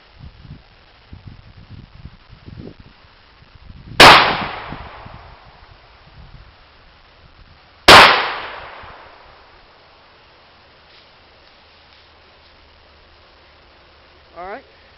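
JW-2000 12 gauge coach gun firing buckshot at targets outdoors: two loud, sharp shotgun blasts about four seconds apart, each ringing out and decaying, with soft talk and handling noises before them.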